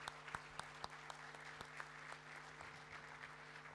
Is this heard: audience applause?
yes